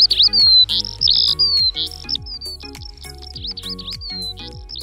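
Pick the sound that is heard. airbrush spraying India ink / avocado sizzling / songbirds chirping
songbirds chirping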